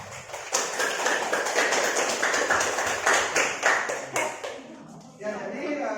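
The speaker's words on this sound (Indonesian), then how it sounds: "terima kasih tepuk tangan untuk temannya" Classroom applause for a student, a dense patter of many hands clapping at close range that fades near the end while a voice talks over it.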